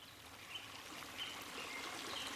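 A forest stream on a summer morning trickles and babbles in a soft, continuous wash, faint and steady throughout.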